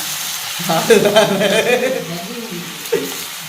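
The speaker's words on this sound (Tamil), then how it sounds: "இப்போ பார்த்தீங்கன்னா இறைச்சி நல்ல வடிவாக வதங்கி கொண்டு வந்துட்டு" Goat meat curry sizzles as it sautés in a pan, a steady frying hiss with stirring scrapes, a voice talking briefly over it.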